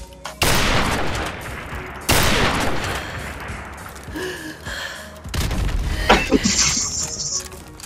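Rocket launcher fire and explosions in the video game Call of Duty: Modern Warfare Remastered: three heavy blasts with roaring decays, the last one trailed by debris and game effect tones, loud and close.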